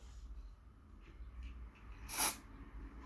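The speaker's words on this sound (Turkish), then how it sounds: "Vücut spreyi çıktı ama çok az sıkacağım." A can of body spray gives one short, soft hiss, a brief burst in an otherwise quiet room.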